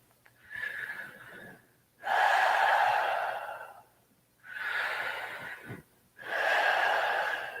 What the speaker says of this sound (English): Keep this breathing going.